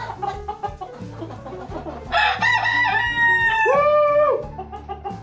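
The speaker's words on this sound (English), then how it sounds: "That Leghorn, that was like an adult crow." A Leghorn rooster crows one full, loud call rising and then holding, close by, over scattered clucking and low chatter from other chickens.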